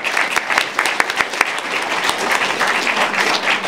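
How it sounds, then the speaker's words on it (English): Students clap for a girl who hit the lower target on a visit to the Canada Space Centre: a steady burst of many hands clapping close by, dense and sustained for several seconds. "Round of applause."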